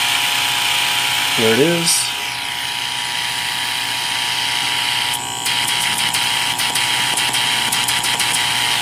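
A Comgrow Air Assist air pump for an xTool D1 laser engraver runs with a steady, loud, buzzing electric drone close by, continuing throughout while someone briefly speaks over it.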